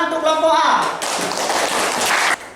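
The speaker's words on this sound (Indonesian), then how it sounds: "Mari kita beri tepuk tangan untuk kelompok A" A short burst of clapping for a student group at a university teaching practice session follows a voice, dense and fairly loud, then cutting off abruptly.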